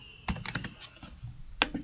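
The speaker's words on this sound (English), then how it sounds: "we can do that by typing the command" Quiet, quick clicking of computer keys in two short bursts, a flurry of taps followed by a pause and a final couple of keystrokes.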